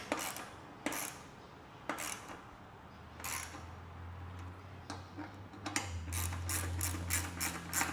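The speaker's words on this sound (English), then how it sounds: "So I'm gonna tighten down this rear mount" Ratchet clicks from tightening a roof rack's rear mount on a Land Cruiser 250, with several bursts of rapid metallic ticking close by, spaced out and then quickening near the end, over a low hum.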